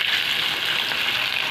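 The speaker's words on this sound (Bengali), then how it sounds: "পেঁয়াজগুলো একটু লাল লাল ভাজা হোক" Onions fry in a pan with a steady, close, even sizzle that crackles continuously throughout.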